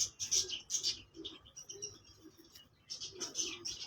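Breeder's pigeons in Rawalpindi give soft, close cooing calls in short repeated bursts with brief pauses, no talk.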